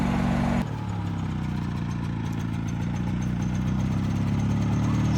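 A 2007 EZGO golf cart's Subaru engine, leaking oil from the crank vent, runs against its applied brakes, a steady droning rumble with a brief change in tone just after it starts, then an even, continuous labour.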